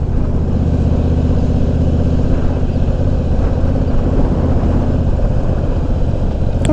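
A Honda Goldwing motorcycle rolls past on a small-town road, its steady engine drone sitting over constant low rumble and wind noise from a riding bike, with no talk.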